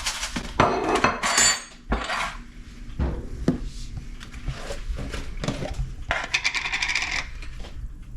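Seasonings and fresh grated Parmesan rattled inside a container, giving several loud, clattery bursts of shaking with short pauses between them, close up and free of talk.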